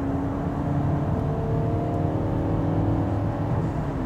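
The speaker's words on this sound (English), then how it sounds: "when you accelerate a little bit more, the engine gets activated" Steady engine drone from inside a moving 2023 Mercedes GLC 400e hybrid as its combustion engine kicks in, a low hum with road noise rising slightly as the motor takes over, no voices.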